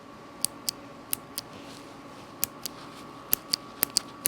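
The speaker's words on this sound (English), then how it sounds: "I don't know what it is about a clickety keyboard" Sharp, crisp clicks of a clicky mechanical keyboard switch for a GMMK3 keyboard, pressed a dozen times at irregular intervals over a faint steady hum, close up with no talking.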